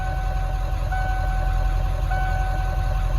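A 1996 Ford F350 pickup with the 7.3L PowerStroke turbo diesel sits idling with the air conditioning running, giving a steady low engine drone plus a faint high whine that stays loud and unbroken with no talk.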